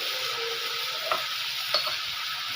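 Salted vegetables stirred in a frying pan give a steady close hiss of frying, broken by two faint scraping knocks of the spoon; no voices.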